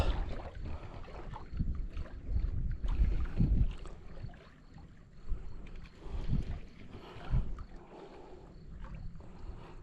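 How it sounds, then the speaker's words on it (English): Wind blows across a lake during bass fishing from a boat, producing low, gusty rumbles and buffeting that rise and fall in several loud surges, with faint water movement between them. "Wind is blowing."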